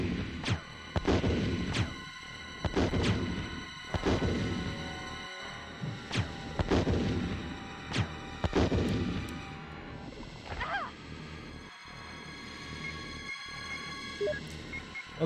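Grenade launcher shots in the 1996 video game Resident Evil sound as a series of loud, booming blasts, each with a sharp crack and a long decaying rumble. Later come quieter thuds and game sounds, with no speech.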